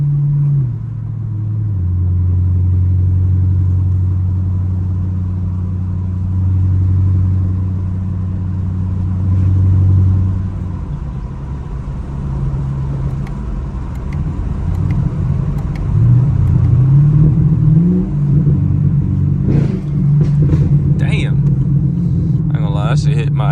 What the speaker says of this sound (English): to drive my car that knows how to make it pop like this, so I can hear it myself